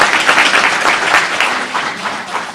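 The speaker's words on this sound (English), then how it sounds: "we can give him a round of applause if you want" Audience applause breaks out at a city council meeting as a graduating student is recognized, a steady, dense patter of many hands clapping throughout, fairly loud and unbroken by talk.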